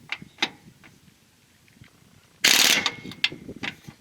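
Impact wrench on a utility trailer jack, one loud buzzing burst of hammering rattle after faint clanks, followed by short sharp taps, close by with no talk.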